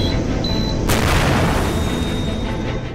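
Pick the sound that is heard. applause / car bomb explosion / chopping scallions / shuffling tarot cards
car bomb explosion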